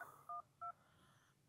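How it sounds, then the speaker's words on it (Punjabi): Two short, clear telephone keypad tones beep quietly in quick succession, separated by a brief pause, with no talking. "ਮੇਰਾ ਖਿਆਲ ਭਾਈ ਅਕਰਮ ਨੂੰ ਮੈਂ ਫੋਨ ਕਰਦਾ"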